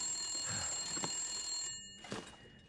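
A telephone rings inside The Long Dark video game, two moderate electronic bursts rising over a steady hiss of background game ambience, with no talking.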